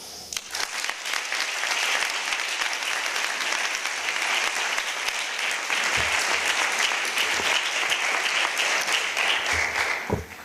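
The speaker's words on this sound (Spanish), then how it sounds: "Un aplauso." An audience applauds at a conference session in Geneva, a dense, sustained wash of clapping from many hands lasting about ten seconds, steady and moderately loud before tapering off.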